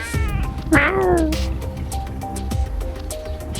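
A cat gives a clear, close meow with a rising and falling pitch, followed by quieter background sounds and soft shuffling.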